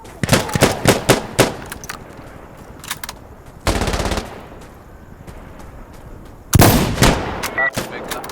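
Gunfire in Insurgency Sandstorm co-op play, loud bursts of automatic fire and single heavy shots up close, with a long sustained burst and scattered distant reports between them.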